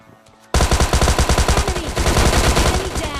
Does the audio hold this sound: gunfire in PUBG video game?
yes